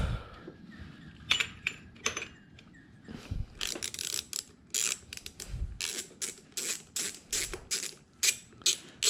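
Ratcheting hand tool backing bolts out of a motorcycle, likely a Harley Ultra, with bolts set in factory Loctite: rapid bursts of metallic clicking and clatter, close and moderately loud, repeating in irregular clusters with no talking.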